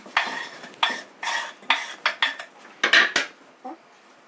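A knife chops vegetables finely for paella, about a dozen sharp, separate strikes against a board in an uneven rhythm, close and clear, with no talking.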